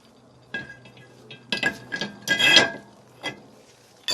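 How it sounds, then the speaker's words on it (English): Brake rotor disc being fitted onto the hub of a 1995 Honda Accord during a brake caliper conversion, heard as a few sharp metallic clinks and scrapes, close by, between quiet pauses. "Now I'll go ahead and put the rotor disc."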